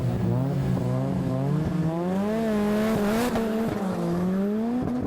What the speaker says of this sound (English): Steve Scott on the right-hand side of the course in the Focus rear-wheel drive WRC versus Jonathan Urry in the Nissan GTI R, the black car on the left.